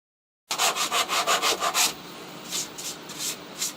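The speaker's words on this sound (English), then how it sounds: "I'm going to sand this a little bit" A wooden clock piece is sanded by hand in quick rhythmic back-and-forth strokes, about eight brisk rasps followed by several softer, slower passes, close and alone after a short silent start.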